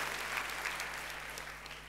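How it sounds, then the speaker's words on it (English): A church congregation claps for everyone involved in a Christmas drama, a brief, even round of applause over a low electrical hum. "Can we just give everyone involved another round of applause for their hard work"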